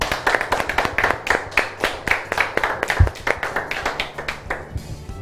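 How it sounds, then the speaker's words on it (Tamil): Audience applause for a Team B participant on a stage show, a steady run of sharp overlapping hand claps lasting several seconds, fairly close and lively, with no talk over it. "கைதட்டுங்க பா"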